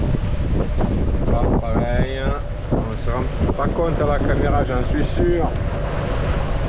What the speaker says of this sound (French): Mais c'est de la grosse vague.